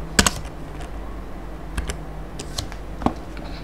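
Typing on a computer keyboard while entering an Excel formula, ending in a press of the enter key: close, crisp key clicks, a quick burst at the start and then a few scattered taps.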